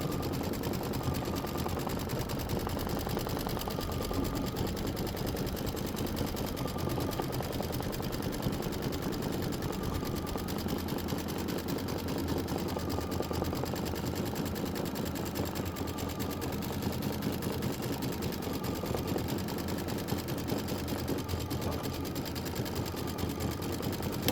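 A sewing machine stitching steadily at about 600 stitches per minute, a fast, even mechanical whir and chatter running without pause and close up.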